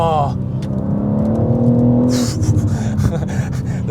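A BMW M car accelerates hard with a loud, steady engine drone and a rising tone, revving up and sliding sideways, while people talk excitedly over it.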